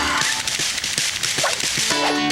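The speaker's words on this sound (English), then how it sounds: "card and spokes noise doesn't stop until well after the bike has stopped" A playing card clatters in the spokes of a bicycle wheel in an old VHS cartoon credit sequence, a fast continuous flapping rattle blended with music and other cartoon effects.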